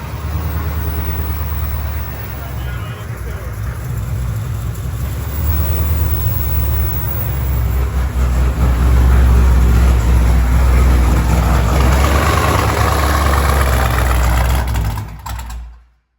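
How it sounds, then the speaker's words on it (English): Supercharged engine fitted with a Kong 2650 blower runs loud and steady for about fifteen seconds, a deep rumbling drone with a rising whine, then cuts off abruptly. "Feel the wind out of that blower just going."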